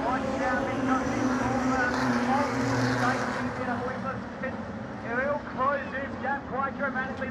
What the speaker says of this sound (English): the lead three cars are really starting to pour on the pressure